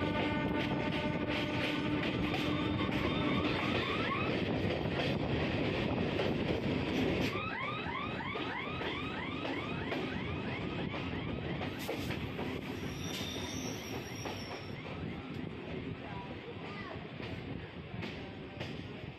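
A Kolkata Circular Railway train runs with a loud, continuous rumble of wheels on track, then shrill wheel squeals rise and fall in repeated sweeps through the second half.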